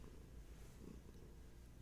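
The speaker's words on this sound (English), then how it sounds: "now the purrs are coming" A cat purrs during a Reiki and crystals session, a low continuous rumbling drone, close and steady throughout with no talking.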